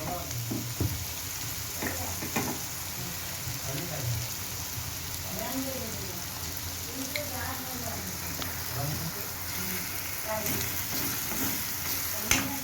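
Spices sizzle in hot oil in a heated kadhai while pav bhaji masala is prepared; a constant crackling fry with intermittent scraping stirs, and someone talks over it throughout.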